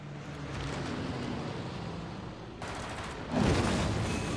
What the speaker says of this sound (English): I'm gonna continue the bombing mission